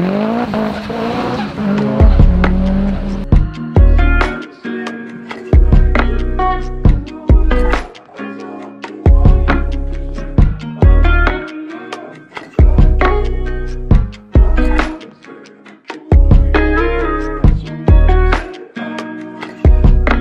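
A hillclimb race car at Prescott launches hard off the start line, its engine roaring loud and close through a rapid series of sharp upshifts, each gear rising in pitch before a brief break and pull, with tyre squeal mixed in.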